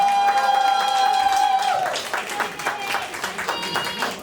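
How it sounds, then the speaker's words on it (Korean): An audience at a live band performance applauds, a dense clapping wash that builds after a sustained tone fades, fairly loud and continuous with crowd noise mixed in. "다시 박수 부탁드리겠습니다."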